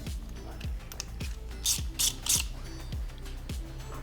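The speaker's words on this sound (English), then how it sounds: "Grab the other big nut and screw it in about 1/3 of the length." Ratcheting clicks from tightening a big nut onto an eyelet bolt during a DIY steering damper install on a RoadRunner RS5, heard as a repeating series of close mechanical ratchet strokes with a few sharper metallic scrapes.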